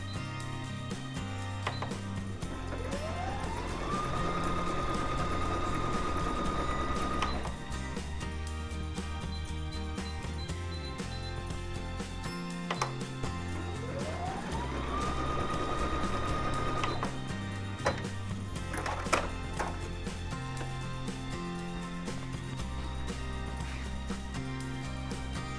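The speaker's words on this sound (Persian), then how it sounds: "اینجا نگاه کنید دوخت اولمون با گام معمولی هست" A Brother ULT 21 sewing machine runs in two separate stitching passes, each a rising motor whine settling into a steady hum with ticking needle rhythm, separated by quieter clicks and handling.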